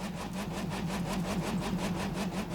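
A yellow monster truck engine in a video game, revving in a steady pulsing rhythm while spinning donuts in mud, loud and close with a rough mid-low drone.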